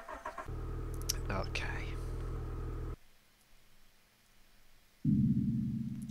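A car driving in The Consuming Shadow video game gives a loud, steady low engine drone that cuts out partway, then returns after a quiet gap, with brief talk over it.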